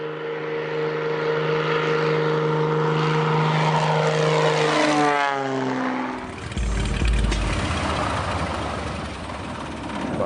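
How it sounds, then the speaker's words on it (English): A propeller airplane at Joseph Airstrip in Alaska, its droning engine loud and near, the pitch sliding down as it passes close by, then giving way to a low rumbling roar. "the plane has landed at Joseph Airstrip to unload camera guys and gear"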